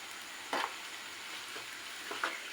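Stuffed bitter gourd fries quietly in a pan while turmeric is stirred in. A faint, steady sizzle runs throughout, with two brief scraping strokes of the spoon.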